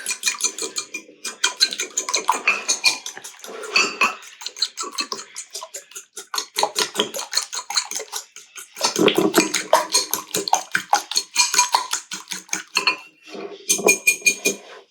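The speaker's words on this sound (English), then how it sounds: "Beat it up with a fork." Fork beating two eggs and a little cream in a bowl, a quick rapid clinking and tapping against the sides in bursts with short pauses, close and clear.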